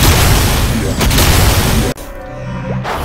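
A sustained roaring energy blast from the Xenon character's Particle Accelerator skill in MapleStory, loud and dense for about two seconds, then cutting off abruptly into a quieter tail with a faint rising whine.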